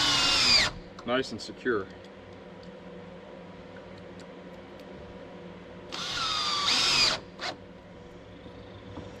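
A power drill drives screws into wooden deck boards over a joist on a cabin porch, with loud whirring bursts at the start and again near the end, separated by brief ratcheting and a voice speaking between them.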